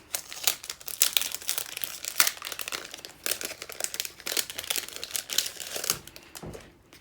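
Plastic packaging around scrapbooking cards and embellishments crinkles and crackles up close in irregular bursts, with a few sharper tearing rips and short pauses between handling.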